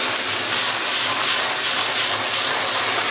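Soybean sprouts hitting a very hot wok where scallion whites are already frying, ahead of pig intestine, giving a loud, dense, continuous sizzling hiss close up with no break.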